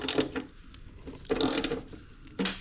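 Ratchet loosening T30 Torx bolts on the chain case of a 2017 Ski-Doo 600 ACE snowmobile, giving three short bursts of close, clicking mechanical ratcheting with brief pauses between them.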